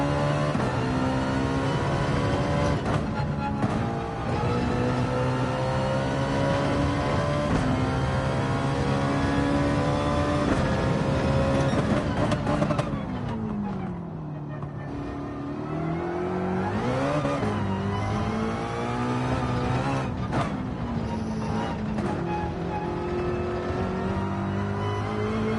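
Race car engine in the Gran Turismo 7 video game, revving loudly and continuously through gear changes, dropping briefly as the car lifts and brakes before accelerating hard again, with no talking.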